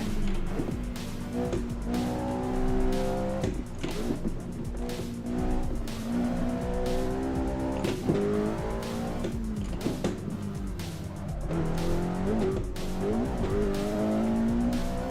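Sim racing game audio of a race car on track, with a steady engine drone that rises and falls through gear shifts and repeated tire squeals and skids as it corners, loud and continuous with no talk.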